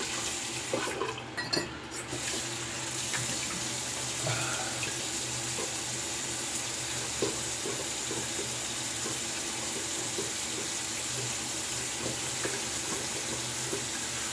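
Tap water runs steadily into a sink for rinsing after a shave, a continuous close hiss and splash with small shifts as hands move under the stream, no talking.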